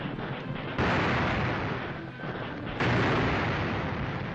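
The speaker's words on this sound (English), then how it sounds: "Japanese guns blast a final rain of fire and steel on Nanteo." Japanese artillery guns fire on Shanghai in 1938 war footage, with two heavy, loud blasts about two seconds apart, each leaving a long rolling rumble in old, hissy film audio.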